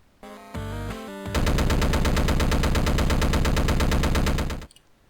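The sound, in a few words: gun boots firing in Downwell video game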